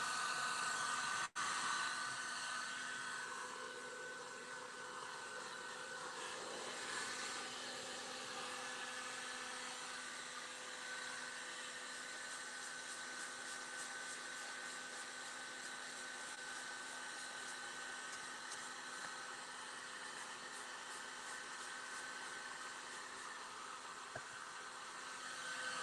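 A hair dryer runs steadily on a craft project, with a constant faint whooshing hum and a slight tonal whine that carries on alone for the whole stretch.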